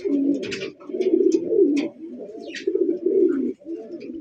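A pair of big racer pigeons coo repeatedly in low, throaty rolling phrases, close and continuous, with a few faint higher chirps above.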